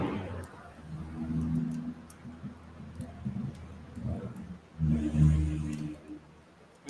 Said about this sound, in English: There's some car, must live down the road there, like no muffler.